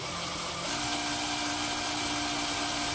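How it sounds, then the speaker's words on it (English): A drill with a coated, lubricated bit bores through a piece of medical-grade metal, giving a loud, steady, high-pitched whine that holds throughout with no talking. "let's see how easy it is for me to drill all the way through"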